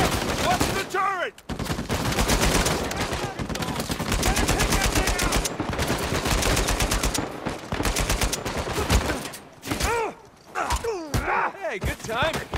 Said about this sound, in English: Watch the turret!